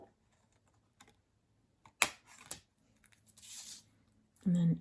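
Scissors snip around a paper circle for a dolls house lamp, giving a few quiet, scattered cuts and crisp paper rustles, with a brief voice near the end.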